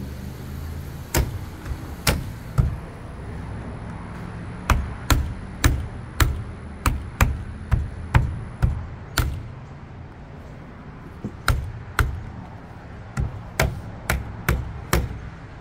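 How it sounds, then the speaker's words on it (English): A hand tool tapping down trim on a car's landau vinyl top during reinstallation: a long series of sharp, close, single taps, sometimes in quick runs and sometimes spaced out, over a low steady background hum. "if you're going to be using a tool like this here to tap down this trim"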